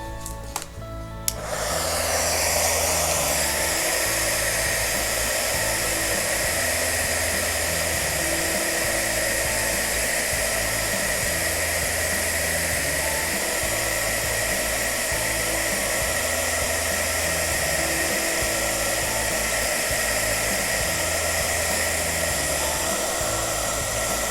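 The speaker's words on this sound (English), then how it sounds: "And heat that with my heat tool." An embossing heat tool blows hot air over clear embossing powder on a handmade card, a loud, steady whooshing drone that starts with a click and runs unbroken close by.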